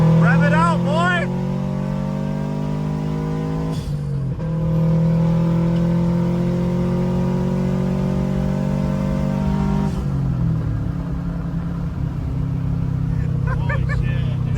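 Engine-swapped Subaru GC8 revving hard, its loud steady engine drone climbing and dropping in pitch across several pulls, with people talking over it.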